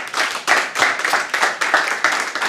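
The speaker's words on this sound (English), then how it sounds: "Well, another round of applause." A small audience at a JavaScript meetup claps in a short, fairly close burst, individual hand claps distinct and uneven, fading slightly toward the end.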